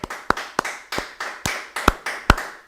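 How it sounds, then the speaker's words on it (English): Studio crew clapping for listeners on a late-night talk show: a handful of sharp, evenly spaced claps close to the mic, about eight in a steady rhythm, with room echo trailing each one and no talk over them. "So clapping for all of you. Clap for them, please. Louder."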